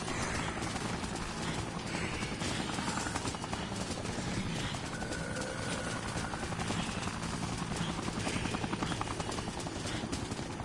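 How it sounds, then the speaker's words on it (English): A military helicopter in the Dead Rising video game thrums overhead, its rapid rotor chop pulsing steadily through a dense wash of game noise, moderately loud and sustained. "And now there's a military helicopter right there, shooting missiles at us."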